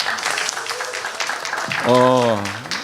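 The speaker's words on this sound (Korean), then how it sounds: "박수하겠습니다." Audience applause at a Christian humanities forum, a steady patter of clapping from a room of listeners, overlapped near the end by a speaker's voice.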